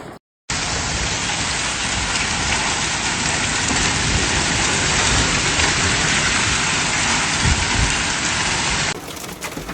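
Heavy rain with hail during a storm in southwest England, a dense steady hiss and patter of falling water and ice on surfaces, loud and continuous, ending abruptly.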